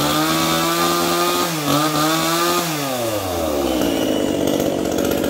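A Japanese-import chainsaw engine roars loudly at close range, its pitch dropping and rising through several revs before settling into a rougher, lower idle.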